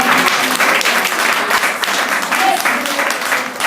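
A church congregation applauding together during worship praise, dense steady clapping that fills the room with a few faint voices mixed in.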